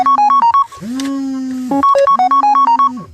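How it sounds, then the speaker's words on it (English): Phone ringtone with a bright, stepped electronic melody, two quick runs of beeping notes around a sustained synth chord in the middle, loud and close with no talk over it. "Do you hear my phone ringing?"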